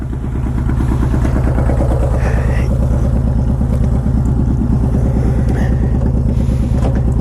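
A Honda VTX 1800 motorcycle fitted with Vance & Hines pipes idles steadily up close, a loud, even, throbbing engine rumble with no break.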